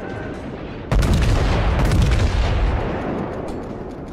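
Battleship main guns in World of Warships, aboard a maxed-out New Mexico, erupt in a sudden, loud, deep boom that rolls into a long rumbling salvo and then slowly fades away.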